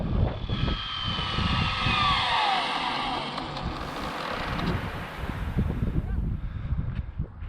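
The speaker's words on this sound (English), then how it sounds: "That's the same truck driving back and forth." A truck passes on a road, a broad engine and tyre roar that fades as it moves away, followed by lower rumbling and some wind buffeting.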